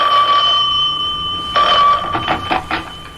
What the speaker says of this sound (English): I was barely settled into my mother's house when the phone rang.